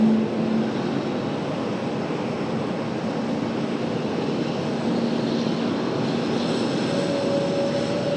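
A Frontier Airlines plane takes off from runway 5 left at Raleigh-Durham airport, a steady loud engine roar heard from a distance that holds throughout.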